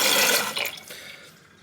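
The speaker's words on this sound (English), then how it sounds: "Let's flush it one more time." Right after a new flapper goes in, a toilet flushes: a loud rushing gush of water that quickly fades to a softer trickle over under two seconds.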